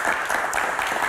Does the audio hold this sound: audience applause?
yes